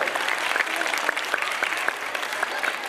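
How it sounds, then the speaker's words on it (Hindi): A school annual function audience applauds a student song performance, with dense, steady clapping from a crowd lasting the whole stretch and only faint speech beneath. "तालियां जोर से बजनी चाहिए।"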